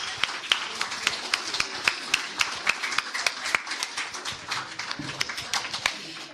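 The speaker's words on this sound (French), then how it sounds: "on les applaudit encore." A small audience applauds a completed project with scattered, uneven hand claps, sharp and fairly close, a few dozen claps that thin out toward the end, with no talking over them.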